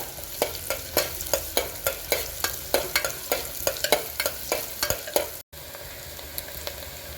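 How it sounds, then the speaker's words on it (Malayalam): Small onions stirred and sautéed in a pan, a steady rhythm of spoon scrapes over a soft sizzle, with a brief dropout near the end before the frying carries on alone. "ഒരു അഞ്ച് ചെറിയ ഉള്ളിയാണ് അത് നമുക്ക് ഇട്ട് കൊടുക്കാം ഒന്ന് വഴന്ന് വരുന്ന വരെ ഇളക്കി കൊടുക്കുക"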